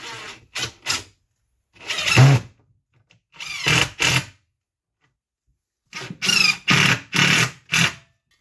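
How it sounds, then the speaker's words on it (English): A power drill bores directly into wood while mounting a heavy-duty tool organizer rack, in loud close bursts: short whirring pulses, then longer grinding runs separated by silent gaps, about eight bursts in all. "I'm going to be drilling directly into the wood."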